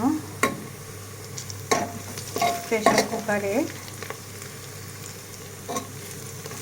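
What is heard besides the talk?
frying onion, garlic and spices in oil in pressure cooker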